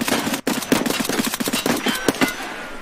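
Rapid automatic gunfire bursts crackle close and loud in a firefight in the realistic shooter game Escape from Tarkov, with a brief pause before the shooting resumes.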